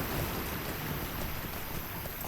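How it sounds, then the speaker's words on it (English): A waterfall in the game Lord of the Rings Online: steady, dense rushing water fills the scene, a loud continuous roar with no breaks and no voices. "The waterfall is very loud over there,"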